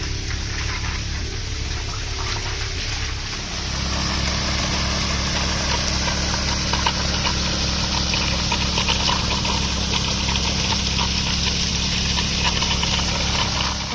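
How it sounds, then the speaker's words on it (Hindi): Pumped irrigation water pours steadily into water tanks at an orchard in Kinnaur, a constant loud rushing fill over a low engine-like hum, with no voices. "यहाँ पर पानी की टंकियों को भी भरा जा रहा है"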